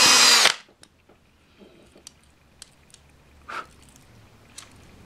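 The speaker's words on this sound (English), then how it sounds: "I'm just opening up the holes on the chassis for 3 mil." A power drill opens 3 mm holes in an OO gauge model chassis, a loud short whir at the start followed by faint clicks and small handling sounds.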